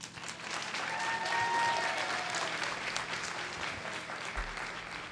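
An audience at an 8th grade graduation ceremony in the River Rouge School District applauds steadily, a moderate sustained wash of clapping that swells early and thins slightly toward the end.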